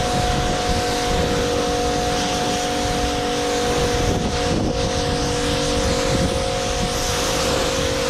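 A loud, continuous hissing roar of a pressure washer spraying a car, steady throughout with a faint tonal whine from the motor underneath.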